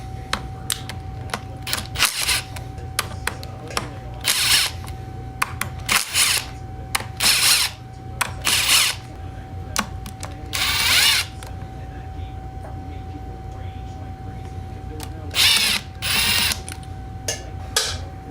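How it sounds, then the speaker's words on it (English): Bursts of a ratcheting tool working the spring bolts on a Honda Grom clutch during a CB300F clutch swap, coming in short close, loud runs with pauses between them over a steady hum. "Now I need a 10mm and we're going to take these springs off."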